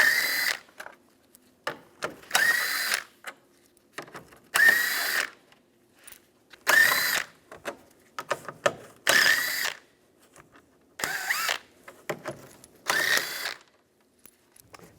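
A hand ratchet fitted with a 10mm socket loosens bolts on a 2015-2019 Lincoln MKC during headlight replacement. Close, loud bursts of rapid clicking repeat about every second or two, with short pauses between strokes.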